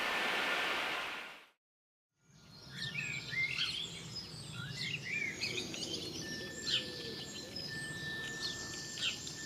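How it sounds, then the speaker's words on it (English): A baby sparrow hiding near a sailboat chirps repeatedly in short high tweets over a steady background wash, after an earlier burst of noise and a brief silence. "Little baby sparrow"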